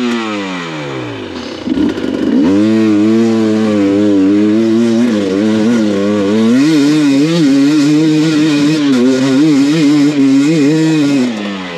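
A motorcycle on a winter group ride revs loud and close, its engine rising and falling in pitch through repeated throttle blips, with a sputtering, clattering idle between them.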